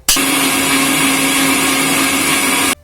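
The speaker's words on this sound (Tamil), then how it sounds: "2 நிமிஷம் நல்லா அரைச்செடுத்துடலாம்." A kitchen blender grinds lemon, mint, ice cubes and ice water into juice, a loud, steady high-pitched whirring roar that starts abruptly and cuts off cleanly after under three seconds.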